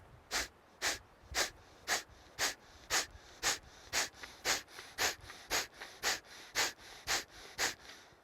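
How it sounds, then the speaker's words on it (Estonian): Bellows breathing during forest yoga: about fifteen sharp, forceful exhales through the nose at a steady, brisk rhythm, close and fairly quiet, with no talking between them. "Nüüd hingan sisse ja alustan lõõts hingamist ehk siis hingan ainult"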